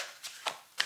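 Oracle cards being cut and shuffled, three quick soft papery riffles close by, short and isolated.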